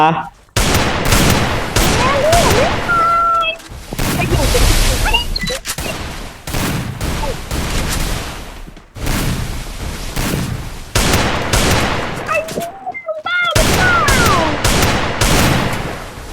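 Rapid bursts of gunfire from the Free Fire shooting game, loud and near with repeated automatic volleys and short gaps, with players talking over them.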